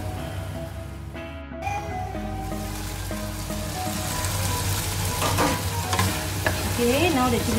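Sambal chili paste with salt and a teaspoon of honey sizzles steadily in a pan while being stirred, a continuous close frying hiss with scraping strokes throughout and no talking.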